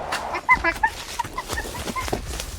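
A chicken clucks in a few short, uneven bursts, fairly close and moderately loud, with some faint background noise around it.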